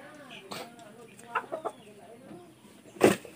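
A rooster clucks in short, scattered bursts while tangling with a duck, with a louder squawking outburst near the end over faint background voices.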